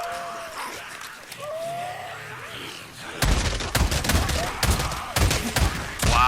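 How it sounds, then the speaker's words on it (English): A combat shotgun in the video game Days Gone fires in a rapid, machine-gun-like burst of loud, close blasts after a quieter stretch, with a voice speaking briefly. "This combat shotgun is like a machine gun."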